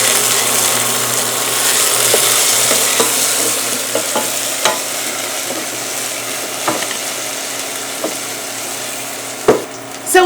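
Chopped garlic and onions fry in a pot with a steady, loud sizzle, while a utensil scrapes and taps through the stirring in sharp, irregular clicks that peak near the end.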